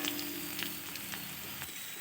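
Nigella seeds sizzling in hot oil with a steady, soft frying crackle and faint light ticks of stirring, a quiet, even sound throughout.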